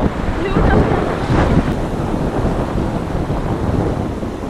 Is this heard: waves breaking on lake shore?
yes